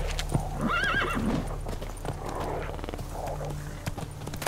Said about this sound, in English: Alright, the horse is marked as enemy